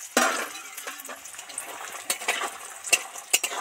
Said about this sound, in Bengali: এবার এই বিউলির ডালের বড়িটা একদম ছাঁকা তেলে ভেজে নেব।